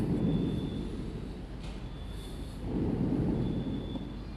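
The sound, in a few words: firecracker exploding outside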